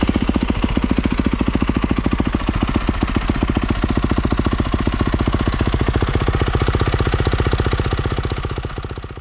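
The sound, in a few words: Kawasaki KX450F motorcycle engine started and idling to warm up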